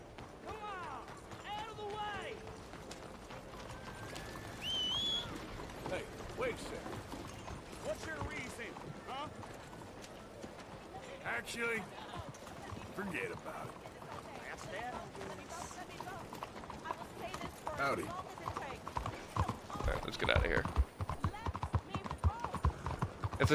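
Horse hooves clip-clopping at a run in Red Dead Redemption II, a steady rhythmic patter under someone talking, moderately close, with scattered game sounds.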